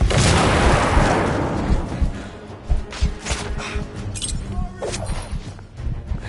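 Grenade explosion in The Order: 1886 video game, a loud close blast opening with a rumbling roar that decays into scattered debris clatter and smaller crashes.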